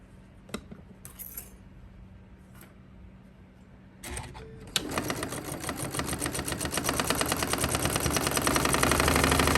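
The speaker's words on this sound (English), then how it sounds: "we're gonna just flip that over and sew it at 1/4 inch" A sewing machine stitching a quarter-inch quilt block seam, starting after some quiet fabric handling and then running steadily and loudly up close, its rapid stitching rhythm speeding up slightly toward the end.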